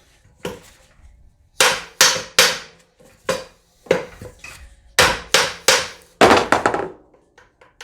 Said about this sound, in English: So all you got to do is just hit the ear